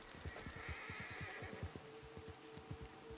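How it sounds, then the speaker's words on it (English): A horse whinnies in Red Dead Redemption 2 while rapid hoof clip-clops thud steadily underneath, the neigh rising in a long nasal cry across the middle of the moment, with no one talking. "I think just my horse is upset about something."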